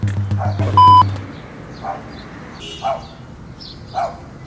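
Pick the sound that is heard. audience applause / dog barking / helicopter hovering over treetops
dog barking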